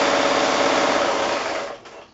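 A sewing machine stitching quilt fabric pieces for four-patch blocks, giving a steady fast mechanical whir close by that runs alone for almost two seconds and then slows and stops.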